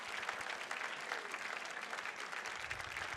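A round of applause for donors at a UPrep Together fundraising event, steady dense clapping from a crowd throughout, moderately quiet and even with no talking over it.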